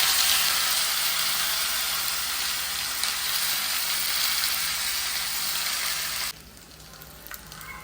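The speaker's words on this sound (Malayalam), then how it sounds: "അപ്പോൾ അതിൻ്റെ ശേഷം നമുക്ക് ഈ ചെമ്മീൻ വറുക്കാനിടാം." Dried shrimp fry in hot oil with curry leaves for a pumpkin dish, giving a loud, steady, hissing sizzle. The sizzle runs unbroken for about six seconds, then drops sharply to a much quieter background.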